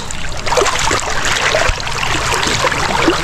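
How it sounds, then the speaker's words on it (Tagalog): A strong river current rushes past outdoors, a continuous, fairly loud broadband wash of flowing water with small splashes and no pauses. "Ang lakas ng agos."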